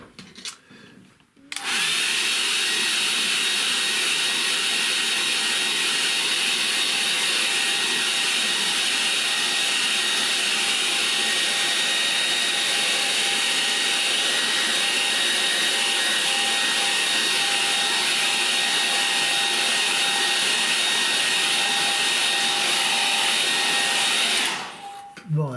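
A hair dryer runs on a watercolor painting of reflections. It switches on with a click and gives a loud, steady whoosh for about twenty-three seconds before cutting off.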